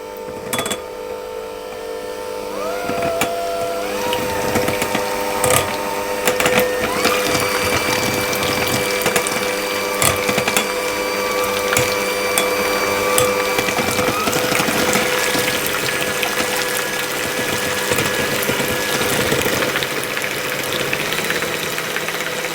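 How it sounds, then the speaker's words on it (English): Cream being whisked until thick and holding stiff peaks for maritozzi cream buns, a steady whirring churn with dense rapid clicking and scraping that runs continuously and fairly loud throughout. "I'm simply going to whisk that until it's nice and thick and is holding some stiff peaks"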